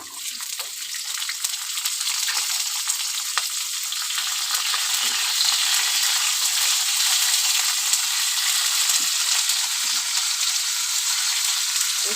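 Long beans and potatoes with green chilli, salt and turmeric frying lightly in oil, giving a steady, even hiss of sizzling that stays close and constant with no talking.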